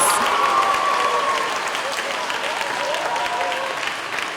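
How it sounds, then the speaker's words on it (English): A school assembly audience at an elementary school claps steadily, a dense wash of applause that holds for several seconds and gradually fades a little. "Let's give a round of applause to these ELA perfect scorers."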